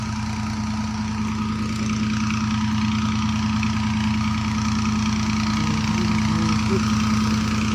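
A 2015 Ghazi tractor idles steadily in a field while powering a borewell pump, its engine giving a low, even, rhythmic chug and hum that holds constant throughout with no talk.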